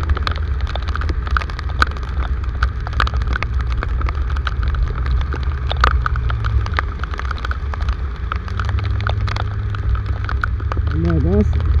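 Heavy rain falls on a street in Valparaíso de Goiás, a dense, continuous patter with scattered louder drops and a low rumble of passing traffic underneath, with a brief voice near the end.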